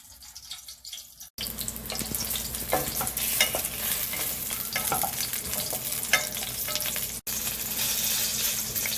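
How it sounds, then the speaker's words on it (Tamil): Brinjal sautés in spluttering oil for a Tamil gravy, a loud steady frying hiss broken by stirring scrapes and crackles, with two abrupt short cuts in the sound. "அதுக்கப்புறம் அந்த தெரிக்கிறது கொஞ்சம் கம்மியானோன்னே கொஞ்சம் வதக்கி விட ஆரம்பிச்சுக்கலாம்."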